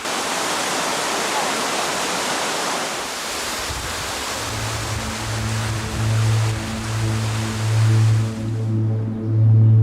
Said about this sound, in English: Piping hot waterfalls that have flowed through the cliffs of Jermúk since time immemorial.